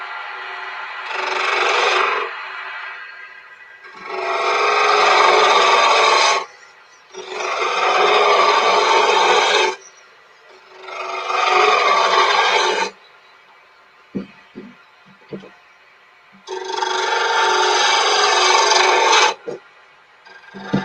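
A sharpened hand tool cuts into wood in long rasping strokes, five steady sustained passes of a couple of seconds each with short pauses between, close and loud, followed by a few light knocks.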